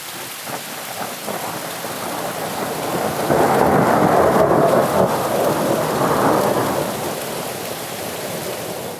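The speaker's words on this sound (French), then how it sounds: "lors d'un orage on voit l'éclair avant d'entendre le tonnerre" Steady rain pours down while a deep roll of thunder swells and rumbles through the middle, loud and enveloping, then fades back to the downpour.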